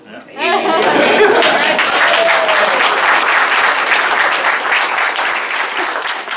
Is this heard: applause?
yes